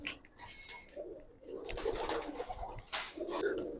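In a loft of Giribaz pigeons, low cooing pulses against a busy, rustling background, with a possible brief flutter of wings and no talk.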